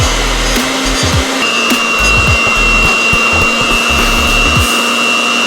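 Lemon cupcake batter of egg, flour, sugar and fresh lemon zest being beaten, with a steady, loud motor whirr that runs continuously and never lets up, alone with no voices.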